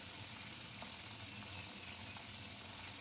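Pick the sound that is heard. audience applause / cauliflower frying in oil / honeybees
cauliflower frying in oil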